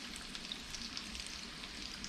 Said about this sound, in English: Sizzling, baby. Sizzling.